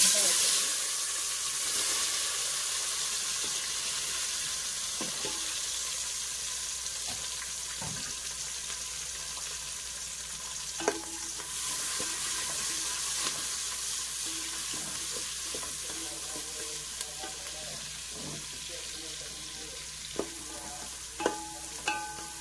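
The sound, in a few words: onions sizzling while frying for veg biryani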